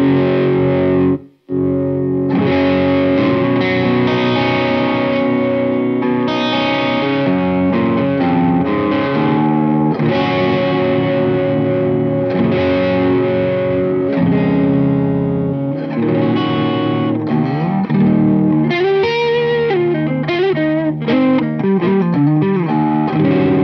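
Epiphone Adam Jones Les Paul Custom electric guitar with a reversed neck pickup giving an out-of-phase tone, played through distortion and effects, sounds out loud and sustained for the whole stretch, with chords and shifting notes and one brief cut near the start.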